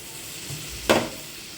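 A small-fish kalia curry with sour yogurt just added is stirred in a pan over low to medium flame: one short, sharp scraping sizzle breaks an otherwise quiet, faintly hissing background.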